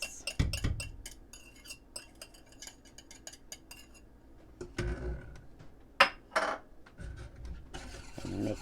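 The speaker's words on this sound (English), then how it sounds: "Get it all mixed up, them eggs." Egg yolks, four of them, whisked in a bowl for a banana cream pie, with repeated clinking and scraping of utensil against the bowl in short busy bursts, close and moderately loud, with pauses between.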